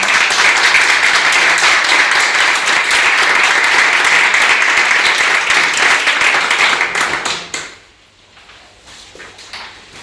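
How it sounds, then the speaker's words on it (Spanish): Audience applauding at a literary reading event, dense steady clapping for about seven seconds that then fades out and stops, leaving a quiet room. "Un aplauso."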